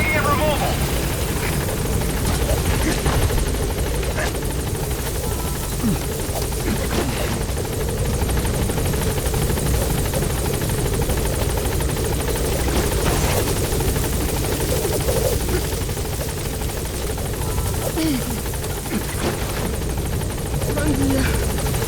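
A helicopter hovers over a landing zone in the Metal Gear Solid 5 video game, its steady rotor drone filling the scene at constant loudness with voices talking over it.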